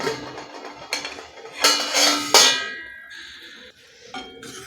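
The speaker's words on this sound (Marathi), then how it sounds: "आता आपण याच्यावरती झाकण काढू" A metal lid lifted off a pan of cooking sandge curry, giving a few bright ringing clangs and scrapes of metal on metal, close and clear, followed by softer clinks, with no speech.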